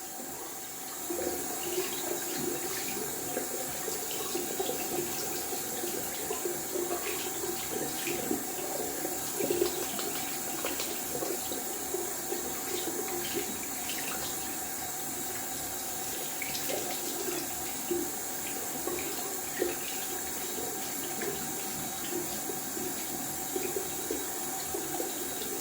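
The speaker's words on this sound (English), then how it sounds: "I'm rinsing out the brush so the alum can work with my skin" A shaving brush rinsed under a running tap during a wet shave, with steady close water splashing and hissing that fills the whole stretch without any voices.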